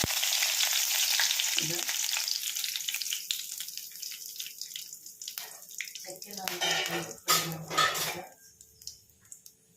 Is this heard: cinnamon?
yes